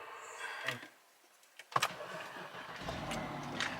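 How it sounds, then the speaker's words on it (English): A car engine cranks and catches, roaring briefly before settling into a low idle, with a few clicks and knocks beforehand. "when you crank up your car, if it will crank up"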